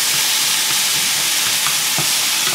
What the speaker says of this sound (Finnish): tehokkaammin tämän paistinpannulta kuuluvan tirinän kuin meikäläisen puheen